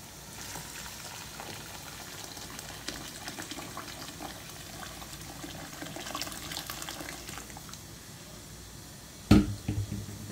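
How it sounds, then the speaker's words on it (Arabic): Water pours steadily into a cooking pot of broad beans with a continuous splashing hiss, ending in a sharp clunk near the end. "حط لهم المي"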